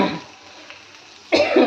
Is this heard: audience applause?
no